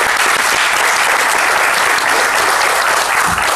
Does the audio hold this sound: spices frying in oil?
no